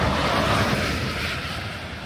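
Rain on King Street in Toronto on a wet Monday makes a dense, steady hiss of spray and traffic wash that holds constant throughout with no talking.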